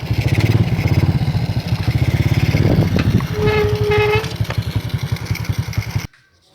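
A Honda Karisma motorcycle with a fault that makes it stall suddenly idles with a rapid, loud chugging pulse, briefly revving up before cutting out abruptly near the end.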